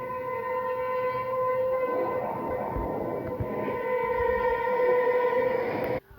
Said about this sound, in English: Oh, the train's coming.